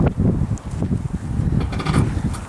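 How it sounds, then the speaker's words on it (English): Outdoor wind buffets the microphone near a farm herd, a steady low rumbling gust with faint rustling and no clear voices. "It is windy."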